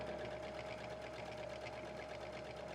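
A sewing machine stitches reusable cloth liners, its motor running in a steady, even whir with rapid needle pulses, close and constant throughout.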